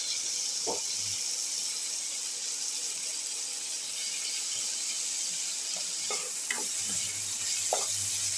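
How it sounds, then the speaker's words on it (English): Tomato pieces sauté in a pan with a steady broadband sizzle, broken by a few scraping stirs near the end, moderately loud with no voices. "Saute and mix the tomato pieces."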